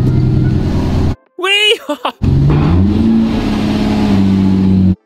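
A Lamborghini Murcielago under reconstruction revs hard and close as it is put into reverse, the engine roaring and shifting pitch. A short shout cuts in and briefly breaks the sound.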